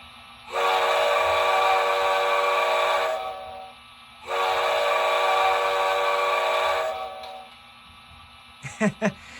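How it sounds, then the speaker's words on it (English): An HO scale Broadway Limited Imports Paragon 1 Pennsylvania Railroad M1b model steam locomotive sounds two long, loud whistle blasts separated by a short pause, then a few quick clicks follow. "F2 is long whistle."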